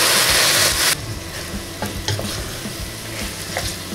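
Chicken frying in a pot with garlic and onion for a Brazilian galinhada, a loud sizzle that drops back after a second, then steady frying with scraping stirs at intervals.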